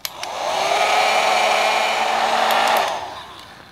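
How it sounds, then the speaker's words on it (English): Heat gun blowing hot air to shrink heat-shrink tubing during an RV lithium battery upgrade, a steady loud whooshing roar that starts abruptly, holds for about three seconds and then cuts off. "The last step is taking that piece of shrink wrap, putting it over the end, and then using a lighter or heat gun"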